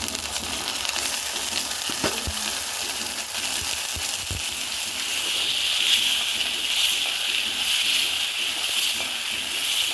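Green chili paste goes into a hot frying pan for a fish curry, sizzling steadily up close with a few knocks and stirring clatters, the hiss swelling louder in the second half.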